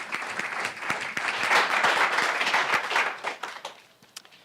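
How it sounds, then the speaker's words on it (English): Audience applause at a business plan competition, welcoming a second-year Grace College student presenter to the stage. A dense burst of many hands clapping, fairly close and full, that thins into scattered claps before fading out. "Let's give him a round of applause."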